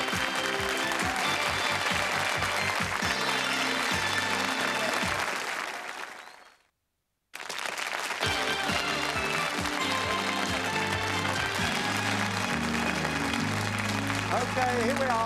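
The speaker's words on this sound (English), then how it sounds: "Give them a round of applause." Studio audience applause on a 1987 British television game show, loud dense clapping over music that fades to a brief silence, then returns at full strength.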